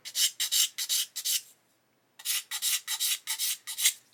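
Rhythmic rasping strokes of a sanding stick on plastic, rubbing off marker ink, two bursts of quick back-and-forth rubs separated by a brief pause, close and clear.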